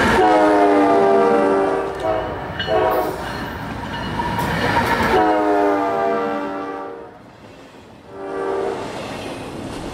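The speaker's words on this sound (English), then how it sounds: "Here comes an eastbound Intermodal on the CSX Willard subdivision with a solo duo." A CSX eastbound intermodal freight train with a solo lead locomotive and mid-train distributed power passes close by, sounding long, loud horn blasts over heavy rolling rumble, with a brief lull before a final horn blast.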